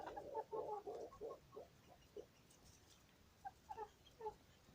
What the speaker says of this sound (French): Donc Chaussures qui est une poule toute noire en fait.